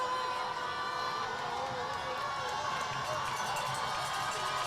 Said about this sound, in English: Crowd certainly get into it.